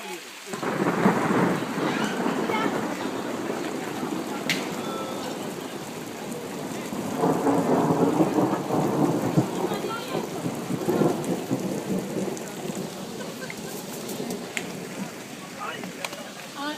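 Thunderstorm with heavy rain pouring steadily throughout, low rumbles of thunder swelling twice, with people talking and shouting in the midst of the downpour.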